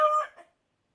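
A farm chicken gives a short, close crow or squawk lasting about half a second, loud and alone, then silence.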